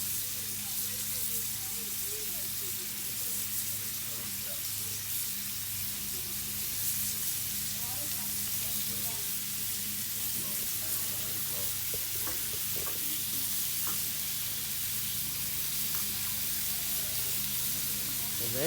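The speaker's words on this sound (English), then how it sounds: "Little butter on the griddle. My favorite kind of steak." Butter and steak sizzle on a hot griddle, a steady, loud frying hiss that runs unbroken the whole time with faint crackles and pops.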